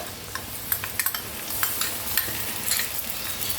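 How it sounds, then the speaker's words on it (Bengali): Spice paste hits a hot frying pan for egg bhurji with aloo and onion, a steady close sizzle broken by several quick spoon clinks and stirring scrapes. "এবার পেস্ট করে রাখা মশলাটা এবার আমি দিয়ে দেবো"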